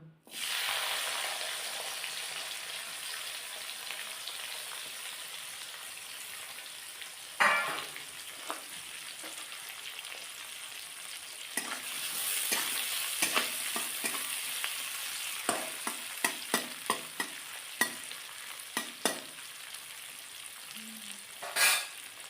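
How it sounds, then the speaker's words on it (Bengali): Onions frying in a little oil in a pan, a steady soft sizzle over a long stretch, punctuated by occasional clicks and scrapes of stirring, with no one speaking. "পেঁয়াজটা আমার একটু ভাজা হোক"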